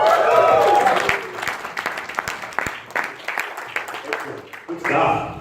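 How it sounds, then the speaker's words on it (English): An audience at a training workshop applauds to welcome a presenter onto the stage, a steady burst of clapping that thins and swells again, with voices talking over it. "Big round of applause for the hosting."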